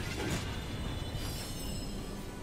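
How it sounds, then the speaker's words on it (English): The A-Train from the video game Ratchet & Clank pulls into a station with a sustained squeal of wheels on rails and a rumbling carriage, moderately distant and with no talk. "The A-Train is now arriving."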